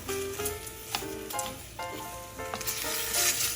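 Frozen tomato cubes sizzle and crackle in a hot pan while being stirred for a rigatoni sauce, with steady frying hiss broken by scraping, clinking stirring strokes close by.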